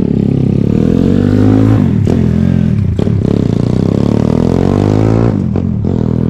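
A motorcycle on a test ride in a Japanese village street, its engine loud and close, revving up and down in repeated rising sweeps with brief clattering breaks between them.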